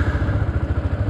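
A Yamaha R15 V2 motorcycle fires up on its electric self-start and settles into a steady, pulsing mid-range idle, close and fairly loud, with a low rhythmic thump and clatter and no talking.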